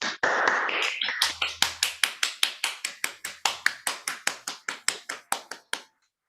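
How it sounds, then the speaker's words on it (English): Students newly inducted into Northwestern University's Phi Beta Kappa chapter in 2021 receive clapping: a sparse, even run of about twenty crisp claps that starts after a brief rustle, stays close and distinct, then stops abruptly. "Let's give these students a round of applause."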